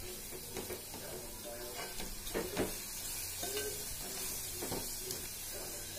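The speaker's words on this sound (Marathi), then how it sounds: "थोडंसं यामध्ये तेलामध्ये फ्राय करून घ्यायचं" Kolhapuri misal paste frying in oil, a soft continuous sizzle with scattered crackles and a few utensil clinks as it is stirred, moderately close and fairly quiet.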